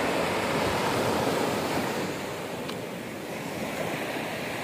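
Sea waves wash steadily onto the shore at a beach, a continuous broad rushing surf that stays loud throughout with slight swells in intensity and no voices.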